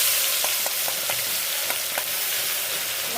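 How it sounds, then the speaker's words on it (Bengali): Spices for a chicken curry fry in oil with a continuous close sizzle, punctuated by light rhythmic stirring scrapes against the pan. "ভালো করে মশলাটা একটু ভাজা ভাজা হোক"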